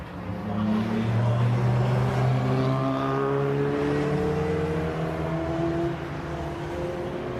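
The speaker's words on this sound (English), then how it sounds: "Neil Luke, car number 227, back underway here for this qualifying session" Touring race car on the Brands Hatch GP circuit during a qualifying session, its engine a loud, steady roar with rising and shifting pitch as it drives past nearby, sustained throughout without talk.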